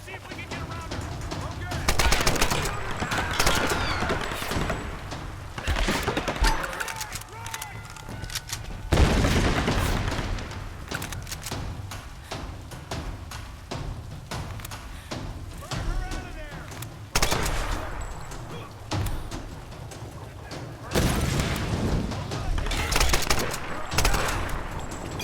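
Gunfire in the 2013 Tomb Raider video game: rapid bursts of automatic shots and booming blasts recurring across the stretch, loud and close, with a voice talking between and over the firing.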